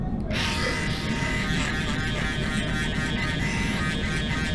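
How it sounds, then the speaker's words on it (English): An Andis foil shaver buzzes continuously and close up while it works through a taper fade haircut, switching on sharply at the start and holding a steady electric drone. "So now I'm gonna go in with my Andis foil shaver."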